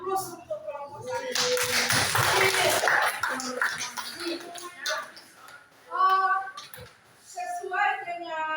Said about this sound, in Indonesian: kalau sepakat kita beri aplaus untuk kelompok satu